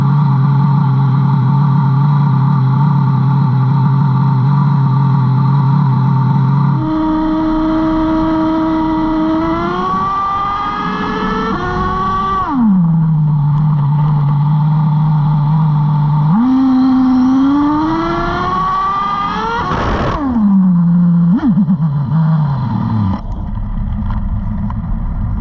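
An HPI Savage XL nitro RC truck engine screams loudly and close, revving up in rising whines. It drops in pitch as the two-speed transmission shifts, then climbs again over several repeated cycles, with no talking.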